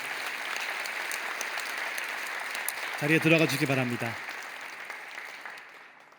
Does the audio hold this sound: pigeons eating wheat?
no